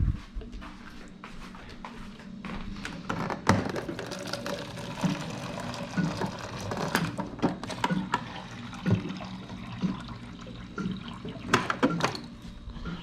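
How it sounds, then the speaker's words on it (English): Warm water runs from a kitchen tap into a container, a continuous close splashing flow with small clunks and knocks of handling mixed in. "first I'm gonna need 300 grams of warm water"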